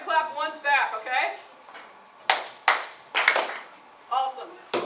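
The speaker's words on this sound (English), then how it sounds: "I'm going to clap twice and y'all are going to clap once back" An audience answers a leader's double clap with single claps, sharp bursts of group clapping ringing out in rhythm between stretches of talk from the leader.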